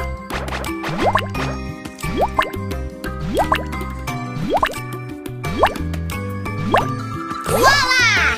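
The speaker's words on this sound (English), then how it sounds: "It's turning into water drops! The water drops will run down my spines and flow into my roots!" Cartoon water drops form and drip in a steady series of bright, rising plinks and plops, about one per second, over a soft musical bed.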